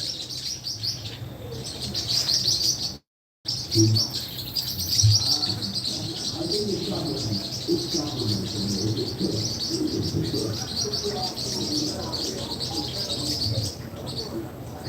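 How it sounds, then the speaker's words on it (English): Gray-and-white birds and small green parakeet-like birds chirp and tweet in a busy, continuous chorus at moderate distance, with soft cooing mixed in and a brief dropout early on. "These birds are gray and white, and the other one, let me tell you, green like young parakeets, but they are not parakeets."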